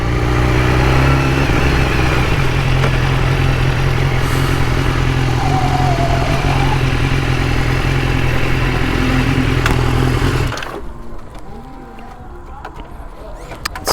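BMW S1000RR sport bike engine droning loud and steady while riding, with wind roar, cutting off abruptly near the end as the bike stops.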